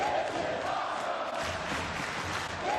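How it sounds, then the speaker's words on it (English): Wrestling arena crowd at an NXT show, a continuous loud roar of cheering voices filling the space without a break. "the crowd just absolutely loving the fight here tonight"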